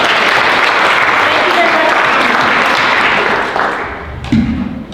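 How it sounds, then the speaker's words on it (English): A round of applause from a gathering of seniors, loud, dense clapping that thins out near the end, followed by a few soft thumps and a voice starting to speak. "a big thanks and a round of applause to Lily for bringing us all together"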